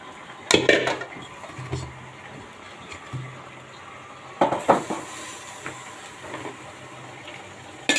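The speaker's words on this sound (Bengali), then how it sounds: "হ্যাঁ হ্যাঁ, আমি এটা একটু এই পাতিলে ঢেলে দিব।" Rohu fish curry with cucumber is poured from one cooking pot into another, bringing a few close clanks of metal and wet splashy bursts over a quiet, faintly hissing kitchen background.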